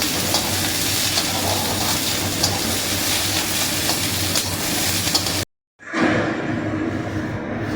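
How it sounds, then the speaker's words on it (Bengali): Capsicum and onion frying lightly in a pan, a steady dense sizzle that runs loud and close, cuts out briefly, then resumes. "এটা আমি একটু হালকা ভেজে নিচ্ছি, হালকা করে ভেজে নেবো, বেশি কড়া করে ভাজবো না।"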